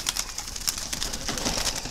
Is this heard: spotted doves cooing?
yes